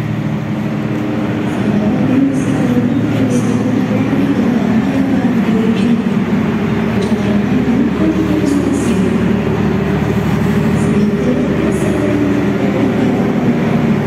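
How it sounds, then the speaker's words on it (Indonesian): A passenger train pulls out of Kroya station bound for Jember, giving a loud, steady rumble with faint clickety-clack of the wheels throughout and no talking. "Kereta apinya akan melanjutkan kembali ke tujuan akhirnya stasiun Jember"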